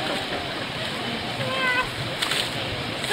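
A geyser in Vuchkovo village, Mizhhiria district, gushes and splashes in a brief, close, continuous rush of water, with people talking nearby.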